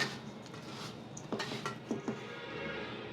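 A rava-potato dough for medu vada is mixed in a bowl, with a low steady scraping and a few light clinks near the middle as the mixture is worked.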